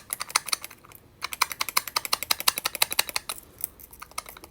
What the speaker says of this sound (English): This is the macaroon clicker.